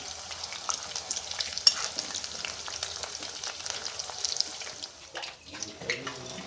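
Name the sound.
chicken pakodi pieces frying in oil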